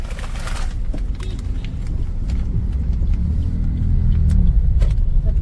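Heavy road traffic idles and rolls past a closed railway gate in Dombivli, a close, loud low engine rumble that builds over a few seconds, with faint bird coos and no speech.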